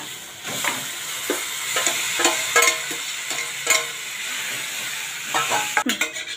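Cooked dal is stirred into a sizzling tempering of garlic, green chillies and turmeric in oil. A hissing fry sits under repeated spoon scrapes and knocks against the pan, ending in a few sharper clatters.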